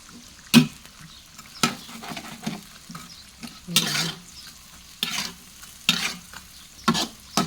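Mackerel frying in hot oil in a pan, a steady sizzle broken by a series of sharp stirring and scraping bursts at irregular intervals, close by with no talking.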